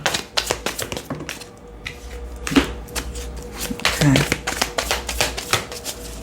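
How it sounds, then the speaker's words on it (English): Tarot cards shuffled by hand at close range, a run of crisp riffling taps and flicks with short pauses between bursts, a voice speaking faintly at points. "I just want to get the cards shuffled and on the table."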